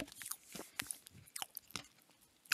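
Close, crunchy chewing of birthday cake topped with little round ball sprinkles, with a string of irregular bites and crunches and no talking.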